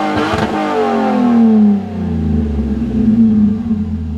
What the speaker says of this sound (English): And he fired up the Lexus.